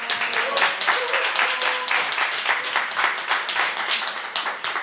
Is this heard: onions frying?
no